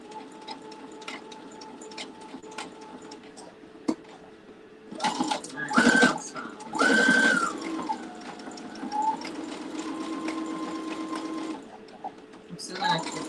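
Sewing machine stitching a beanie, run slowly over a bulky hump in the fabric, whirring in several bursts with pauses between, heard close up alongside someone talking.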